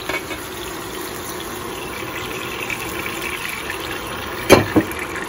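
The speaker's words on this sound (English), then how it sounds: "You can turn down the heat a little before you add in some soaking liquid." Soaking liquid is poured into a pan of mushrooms and soy sauce while cooking Chinese food aboard a boat, a faint trickling gush under a quiet background, ending in a brief louder splash near the end.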